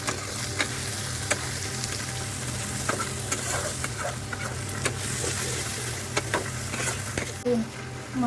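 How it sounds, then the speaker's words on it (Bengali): Spices with salt and turmeric for mushroom polao sizzle in a pan while being stirred, a steady close frying hiss punctuated by regular spatula scrapes and taps. "এবারে আবার নাড়ি"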